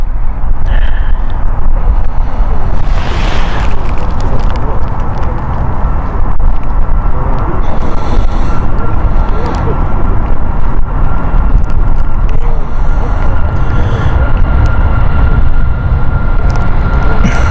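A Ryanair Boeing 737 MAX moves at Stansted Airport, a loud, sustained jet roar mixed with wind buffeting the microphone, steady throughout with no pause.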